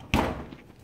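An oven door shuts with a single firm thud after a tray of stuffed bell peppers goes in, close by in a home kitchen, followed by quiet room tone.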